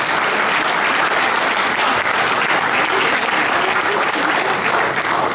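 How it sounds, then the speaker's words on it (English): Loud, dense applause fills an awards ceremony hall for a presenter at a Shakespeare drama competition final, continuous and even across the whole stretch. "a round of applause to Mr. Sriyantha Senaratne to join us on stage as presenter"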